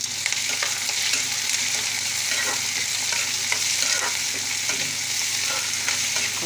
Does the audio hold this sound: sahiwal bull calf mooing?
no